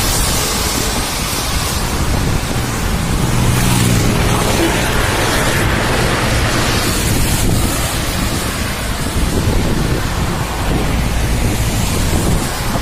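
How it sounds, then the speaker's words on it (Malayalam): Strong wind roars and buffets the microphone during rain at Malayattoor hill in Kerala, a loud, unbroken gusting rush that lasts throughout with no voices. "മഴയുണ്ട്, അതാണ് പ്രശ്നം. വീട്ടിൽ ചവിട്ടാൻ പറ്റില്ല. പിന്നെ നല്ല കാറ്റുണ്ട്."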